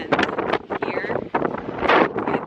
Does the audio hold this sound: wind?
yes